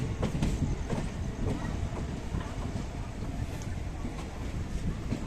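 A train runs at Renigunta railway station with a steady, loud rumble and rattle of wheels on track, continuous throughout and fairly close.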